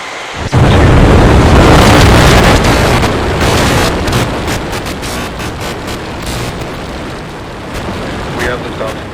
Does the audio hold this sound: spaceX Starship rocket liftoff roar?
yes